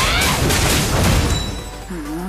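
A tower collapsing in the mobile MOBA Arena of Valor: a loud, dense crash with a booming rumble that fills the first second or so, then settles into a softer lingering roar.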